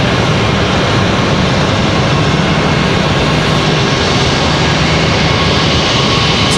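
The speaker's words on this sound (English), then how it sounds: "So there's our A319 that just came in, or A320." An Airbus A319 airliner arrives at Raleigh-Durham airport, a steady, loud, broadband jet engine roar that holds constant throughout with no talking.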